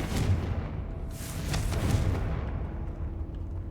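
Confringo explosion spell cast in Hogwarts Legacy, a rumbling blast with a deep booming low end and crackling bursts that fade away over a few seconds, with no speech.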